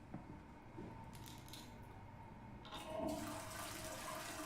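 A toilet flushes in a video game, a rushing water swirl over steady background noise, swelling in volume toward the end with a few faint clicks and clatters before it.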